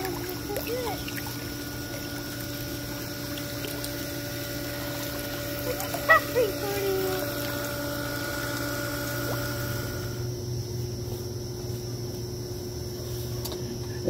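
A swimming pool pump runs after being switched on, giving a steady mechanical hum with a constant tonal drone that continues without a break throughout.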